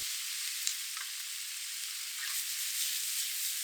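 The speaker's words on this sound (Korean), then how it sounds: "준비된 야채를 모두 넣고 양파가 살짝 투명해질 때까지 1에서 2분 정도 볶아요" Chicken breast and chopped vegetables with onion stir-frying in a pan for jambalaya, a steady bright sizzle with faint stirring scrapes, continuous and close throughout.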